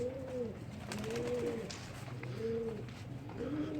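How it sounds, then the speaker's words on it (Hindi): Pigeons coo in repeated rounded phrases, several overlapping calls rising and falling at a steady rhythm, close by with faint background rustle. "इकट्ठे हो गए कबूतर"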